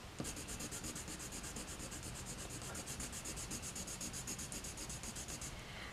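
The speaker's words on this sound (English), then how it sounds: "I'm getting a lot of color laid down really easily" Derwent Artists colored pencil rubbing on paper, a continuous close scratchy scrubbing with fast back-and-forth strokes, steady and fairly quiet throughout.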